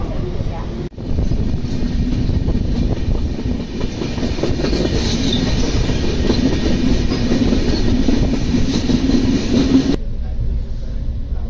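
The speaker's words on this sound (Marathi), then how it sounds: "बघा अजमेर एर्नाकुलम गाडी आहे" Ajmer–Ernakulam train on the Konkan Railway rumbling steadily with clattering wheels and a low drone, loud and close, running continuously until it cuts off near the end.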